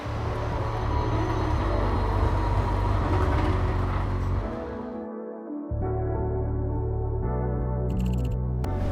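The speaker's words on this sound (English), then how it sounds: "My tram has arrived." A tram rolls up to a stop, its steady low rumble and motor hum easing off briefly as it halts before electrical humming and faint chimes resume, heard nearby with no talking.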